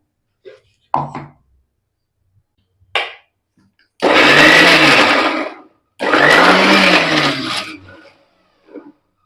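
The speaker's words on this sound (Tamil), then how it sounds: "நான் இந்த 2 கை எடுத்து வச்சிருக்க சென்னாவை நல்லா பேஸ்டா அரைச்சிட்டு வந்துடுறேன்." A mixer grinder whirs loudly in two bursts of several seconds each, grinding chickpeas into paste, separated by a pause, with brief knocks and clatter before and after.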